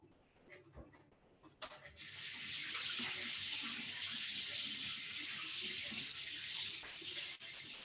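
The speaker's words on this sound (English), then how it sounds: "And let's rinse up these ones." Food being rinsed under a running kitchen tap, a few handling knocks, then a strong steady stream of water from about two seconds on, close and continuous.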